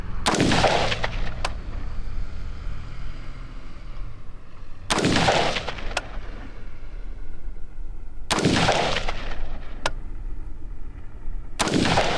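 Rifle shots from a BCM and a Geissele rifle fired unsuppressed during an accuracy test at a range, four loud, sharp reports spaced a few seconds apart, each trailing off in a long echoing decay.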